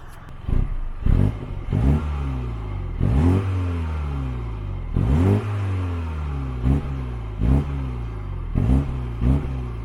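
A Mini Cooper S cabriolet's engine is blipped in a series of sharp revs, each rising and falling quickly, close and loud, with brief idle gaps between the bursts.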